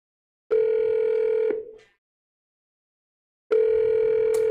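A telephone rings out loud and close during a live prize-draw call, one long steady tone of about a second, then silence, then a second ring starting as the clip ends.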